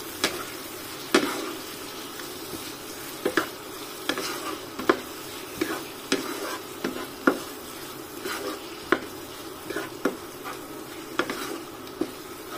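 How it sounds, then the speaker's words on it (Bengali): Pabda fish masala sizzles and fries steadily in a pan while a utensil scrapes and stirs it in repeated sharp clicks against the metal, close and fairly loud with no talking. "ভালোভাবে নেড়ে নেব।"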